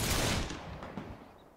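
A musket volley from a company of soldiers in the Between Empires video game erupts in one loud, broad blast that rolls away and fades over a second and a half.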